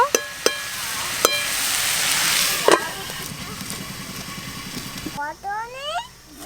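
Chicken cooking in a pan with ginger, garlic, onion and garam masala gives off a steady sizzle with a few sharp scraping clinks and stirring, while a voice talks over the end.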